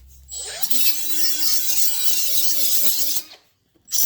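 A small handheld grinder cleans up a piece for a Harley DIY bag mount. It spins up, whines steadily and loudly for about three seconds, cuts out, then briefly restarts.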